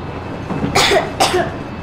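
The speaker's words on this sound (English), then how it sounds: "I have this cough." Two sharp, hoarse coughs close by in the video game Metro Exodus, the second following about half a second after the first, over a quiet background hum.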